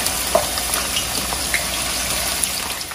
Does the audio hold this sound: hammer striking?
no